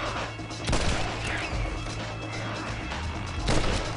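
Explosions and gunfire in the video game Red Dead Redemption: Undead Nightmare form a dense, continuous roar of blasts and crackling, with sharper bursts near the start and end.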